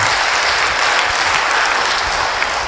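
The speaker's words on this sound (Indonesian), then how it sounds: "Beri tepuk tangan bagi dia." A church congregation breaks into loud, sustained applause that fills the space evenly from start to finish, with no voices rising above the clapping.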